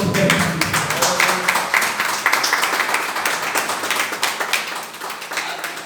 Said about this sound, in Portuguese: Se você está aqui presente, aplaude o Senhor.